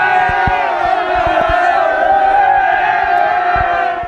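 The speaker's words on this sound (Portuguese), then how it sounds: "Do lado de fora, uma torcida apaixonada." A large crowd of football fans roars and chants outdoors, a dense, loud wall of voices with scattered thumps and shouts throughout.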